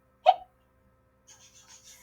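A voice imitates a cartoon skeleton's hiccup in a single sharp, loud vocal hic, followed by a stretch of silence and then faint, broken high-pitched sounds.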